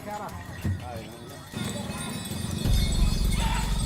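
Horses' hooves clip-clop on the ground as the animals warm up for the pasola tradition in West Sumba, with people talking over the rhythmic, close hoofbeats that grow louder toward the end.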